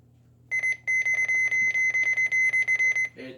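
Oregon Scientific WR608 weather radio giving a rapid run of about fourteen short, loud electronic button beeps at a steady high pitch, close and alone, ending in a brief click.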